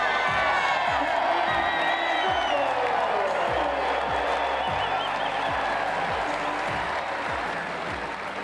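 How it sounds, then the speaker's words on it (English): A packed stadium crowd roars and cheers at a Nebraska volleyball match as a player's name is announced, a sustained wall of applause and whoops with rhythmic low thumps underneath, loud and continuous throughout. "And they announced my name and just an uproar of the stands. Like everyone was just cheering"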